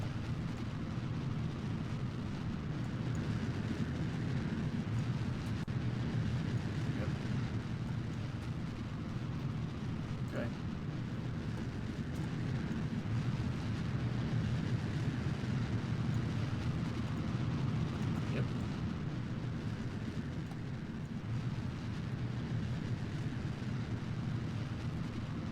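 Steady, continuous low roar of a rocket engine during launch in Kerbal Space Program, throttled back for max Q, a constant rumbling wash with no breaks and no voices.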